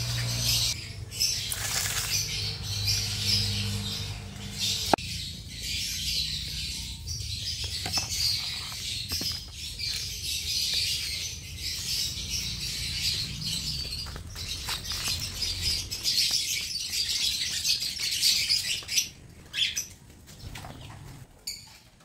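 Pet birds chirp and tweet steadily while trying corn cobs for the first time, with occasional bursts of flapping wings and soft scratching among the calls.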